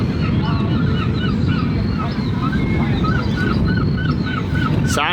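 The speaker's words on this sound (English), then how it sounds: "Sound of the seagulls." Seagulls' honking calls repeat over a loud, steady wind and engine rumble, several birds crying at a moderate distance by a small fishing village at LEGOLAND Windsor.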